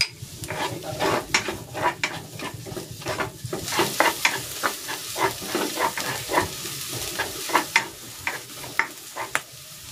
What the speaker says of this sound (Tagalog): Magigisa na ako dito ng bawang. Ilalagay ko na rin tong sibuyas.